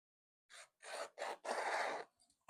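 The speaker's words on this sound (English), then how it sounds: "So take my scissors." Scissors cut through fabric for an in-the-hoop tote bag, giving four separate rasping snips of rising length, the last one the longest, followed by a few faint ticks in a quiet room.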